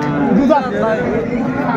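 A cow moos loudly and close at the Ambari cattle market in Dinajpur, a drawn-out wavering call over a murmur of crowd chatter and bargaining voices in the background.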